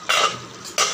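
A lid set onto a cooking pot of potatoes in water for aloo posto gives two short metallic clatters about two-thirds of a second apart, close and fairly loud.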